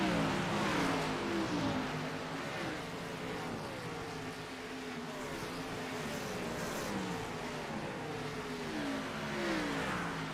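Race cars racing at Dover in an Xfinity series racing sim, a steady, overlapping drone of engines with rising and falling pitch as cars pass, continuous and moderately loud throughout.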